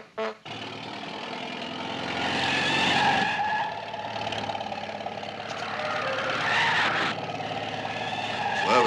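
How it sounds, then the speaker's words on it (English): A truck drives fast and skids, its engine roaring loudly with tires squealing in long sweeping bursts and revs rising and falling close by. "Whoever's driving that truck's mighty shy on brain."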